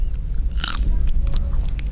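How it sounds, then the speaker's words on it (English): Crunchy grapes bitten and chewed up close, with loud, wet snaps and crackles repeating in a rapid irregular rhythm over a low, steady background rumble. "let's see the crunch"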